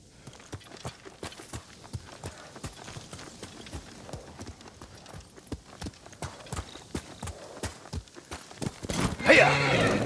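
Horses' hooves clip-clop steadily on the ground in the game Ghost of Tsushima, a close, rhythmic run of hoofbeats, with a louder rustling burst near the end.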